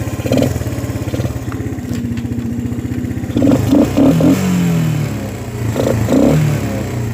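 A Honda TRX ATV engine runs steadily at close range, a rapid chugging idle with a brief rev midway, loud and continuous throughout.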